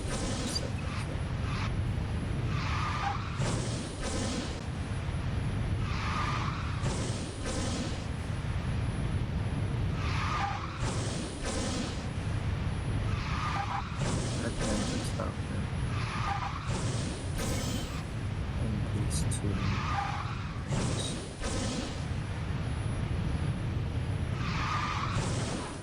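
Cars drift and skid in the racing game Garena Speed Drifters, with a steady engine drone broken by repeated tire-squeal bursts every few seconds, loud and continuous with no talking.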